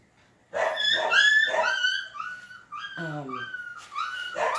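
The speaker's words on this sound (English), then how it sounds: "Oh, we got a puppy upset. Sounds like it's hurt." A puppy yelps and whines over and over, high-pitched and distressed, close by, with short cries running together.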